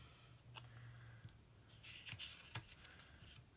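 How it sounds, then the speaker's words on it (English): Scissors snip across the middle of paper for a spring planner cover, giving a few short, crisp cuts at close range. There are quiet gaps between the cuts and no talking. "So I'm just cutting this across the middle"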